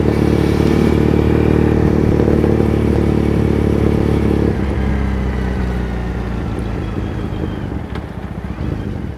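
A motorcycle engine drones loudly and steadily while riding through the streets of Shinjuku, Tokyo, its low hum shifting partway through, with wind rush over the microphone.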